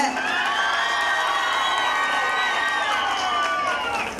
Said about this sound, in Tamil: ஒரு தலைமை ஆசிரியருக்கு இவ்வளவு கைதட்டு கிடைக்கும்னு நான் நினைச்சு கூட பார்த்ததில்ல